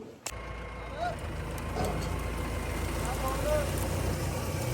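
A 3630 tractor engine idles in a steady low rumble nearby as farm labourers prepare to head to the field, with a sharp knock at the start and people talking over the engine.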